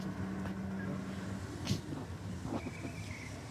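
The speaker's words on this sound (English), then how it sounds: "This must be Liam now in the little Hilux." A Toyota Hilux running down a drag strip, its engine a faint, steady, distant roar mixed with wind noise and track ambience, with no clear peaks standing out.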